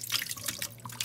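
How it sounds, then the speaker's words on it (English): Running tap water splashes over chicken in a strainer above a bowl, a close, uneven trickle and spatter lasting about a second. "So I'm gonna get it into the strainer and then rinse it again."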